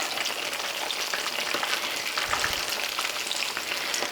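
Sweet ripe plantains fry in oil in a pan, giving a constant close, loud crackling sizzle with a few brief scrapes or spatters partway through, and no talking.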